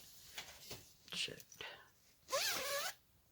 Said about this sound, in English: I went to zipper it up, and there wasn't anything to stop the stupid zipper, so it just came right off